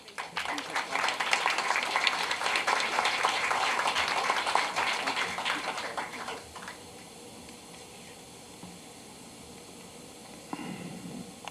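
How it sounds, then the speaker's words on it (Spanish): Audience applause at a university round table on China–Latin America relations in an economics faculty: dense, steady clapping for about six seconds, then it fades to quiet room noise and murmuring. "Fuerte aplauso, por favor."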